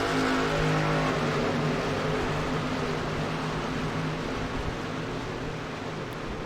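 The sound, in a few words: race trucks accelerating at the start in iRacing video game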